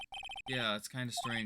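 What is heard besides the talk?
phone ringtone in Ace Attorney video game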